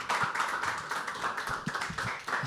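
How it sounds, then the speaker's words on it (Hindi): Audience at a live poetry open mic claps for the first performer of the evening, a steady run of fairly dense hand claps lasting a few seconds at moderate level. "जोरदार तालियां हो जाए उनके लिए."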